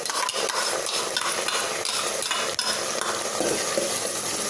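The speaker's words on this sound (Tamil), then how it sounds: "அரைச்சி வச்ச வெங்காயத்தை போட்டு நல்லா அதை கிளறணும்." Ground onion paste stirred while it fries in a pan, with a close, steady sizzle under repeated scraping strokes of a spoon against the metal.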